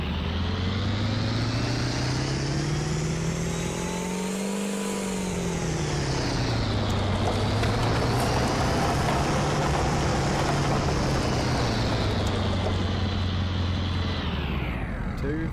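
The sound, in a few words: Ford pickup with 7.3 Power Stroke diesel engine pulling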